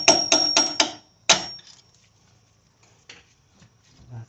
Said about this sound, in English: When you're hammering out bolts like that, you gotta be kind of careful that you don't mess up the threads.